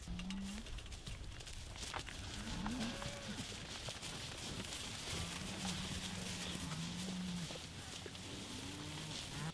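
Dairy cows, some looking like Jersey types, moo at intervals across a Canterbury farm paddock. Several low calls sound from middle distance over steady outdoor background noise.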